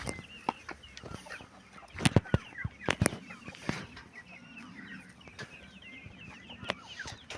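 Hens in a coop cluck and squawk nearby in irregular bursts, with a few loud sharp knocks and bumps among the calls and no talking.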